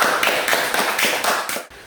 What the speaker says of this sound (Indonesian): mari kita tepuk tangan untuk kelompok 2 yang sudah mempresentasikan hasil diskusinya